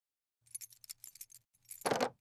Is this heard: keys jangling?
yes